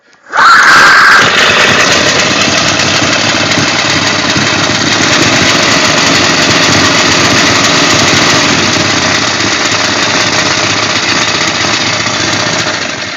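A small engine is pull-started and catches almost at once, then keeps up a loud, steady, buzzing run for over ten seconds close by, with no talk.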